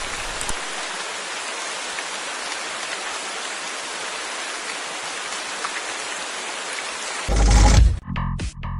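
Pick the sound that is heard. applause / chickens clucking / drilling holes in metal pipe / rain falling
rain falling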